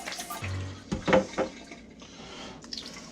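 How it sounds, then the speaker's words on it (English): Water poured out of a container that holds a freshly peeled hard-boiled egg: a short splashing gush up close, followed by a few quieter trickles and drips. "Pour the water out."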